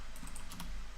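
Typing on a computer keyboard: a few quick, light keystrokes in close succession over a low background hum, faint and brief.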